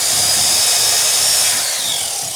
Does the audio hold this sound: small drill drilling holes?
yes